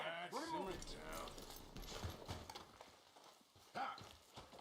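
A horse in the Red Dead video game clip-clops along with hoofbeats and a brief whinny, heard beneath someone talking over it.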